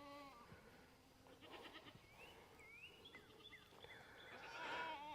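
Goats on a farm bleat repeatedly, several wavering calls overlapping at moderate distance, growing louder toward the end over a low background hiss.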